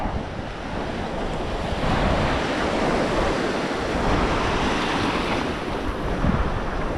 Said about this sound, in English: Tide is going out.